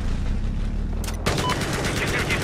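Dense Battlefield 4 gunfire erupts after a brief lull, a loud broadband burst of rapid shots with more fire continuing under constant in-game background noise.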